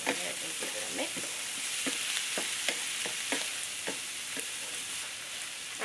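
Onions frying in a pan with ground cumin and kosher salt, a steady close sizzle broken by repeated scraping stir strokes, with no voices.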